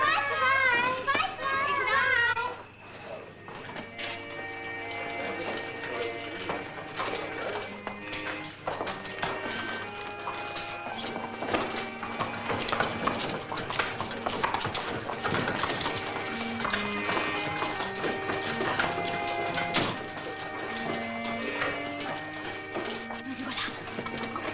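Steady hoof clip-clops from a horse on hard ground, carried along under lively music with scattered voices in the background.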